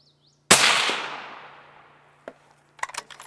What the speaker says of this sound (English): And first shot with the BANISH 30.